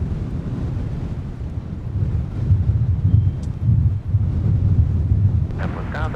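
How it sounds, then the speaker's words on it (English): Gusty wind at Minneapolis–Saint Paul airport buffeting the microphone in low rumbling surges that swell and ease, with a faint distant whine near the end. "Boy, it's a tad gusty here."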